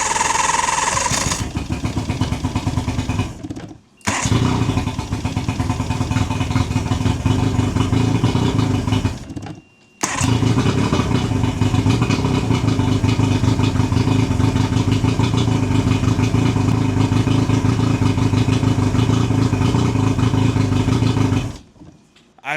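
Two-cylinder outboard boat engine cranking and catching, then running with a steady mid-pitched drone, cutting out briefly twice before restarting and settling into a loud, even idle.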